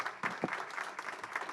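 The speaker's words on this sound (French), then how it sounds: "Et on peut les applaudir." Brief audience applause after a presentation at a conference morning session, a quiet, short burst of clapping from a modest crowd, steady for about a second and a half.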